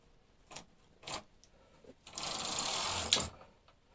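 A knitting machine runs six rows of waste yarn with manual tensioning: three short carriage clicks, then a sustained whirring sweep of about a second ending in a sharp clack, close and alone.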